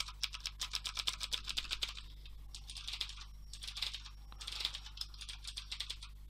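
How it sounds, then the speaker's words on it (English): Rapid clicky keystrokes from an EasySMX mechanical keyboard with blue switches in bursts with short pauses, fairly quiet over a steady low electrical hum. "here's the sound of the mechanical keyboard."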